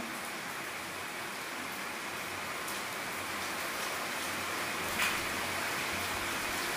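Steady rain falling outdoors during an afternoon of cooking onion pakoras, a continuous even hiss that holds throughout with one brief louder patter near the end, no voices present.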